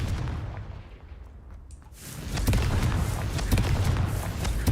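A Confringo blasting spell smashing vases in a fantasy wizard-school game produces a muffled rumbling buildup, then a louder burst of crackling, crashing impacts that continues densely to the end.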